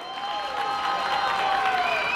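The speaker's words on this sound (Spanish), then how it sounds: "el aplauso para la rondalla del mundo" Crowd applause and light cheering at a festival of Durango rondalla ensembles, honoring a rondalla, with a sustained tonal instrument or feedback line running through the clapping.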